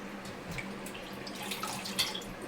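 Tiger prawns and anchovy fish being washed in water under a tap, with a steady, moderately loud rush of running water, light splashing and occasional drips and no talking.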